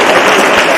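Brief burst of audience applause at a public gathering honouring mechanics, loud dense clapping lasting under a second.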